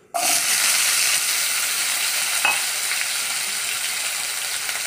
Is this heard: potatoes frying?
yes